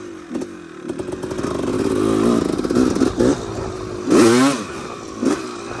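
A Honda CR250R two-stroke dirt bike engine runs and revs unevenly up close, with a buzzing rattle from loose motor mounts over the loud idle and blips.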